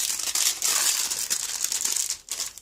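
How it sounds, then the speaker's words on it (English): A plastic snack packet of sunflower seeds and almonds crinkles and rustles loudly and close up as it is cut open, with steady crackling for a couple of seconds and no talking. "cut open the sunflowers and almonds"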